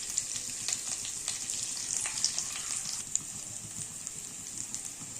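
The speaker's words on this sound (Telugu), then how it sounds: "నెక్స్ట్ కొంచెం ఆనియన్స్, చిల్లీస్, కరివేపాకు వేసుకొని బ్రౌన్ కలర్లో వచ్చేంత వరకు ఫ్రై చేసుకోవాలి." Onions, chillies, curry leaves and cumin fry in a pan, giving a steady close sizzle with small crackling pops throughout, and no voices.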